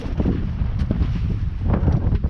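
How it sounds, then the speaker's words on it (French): Wind at a calm boat anchorage off a deserted island buffets the microphone in a loud, steady rumble for a couple of seconds, with no voices. "Ah, attends, il y a du vent."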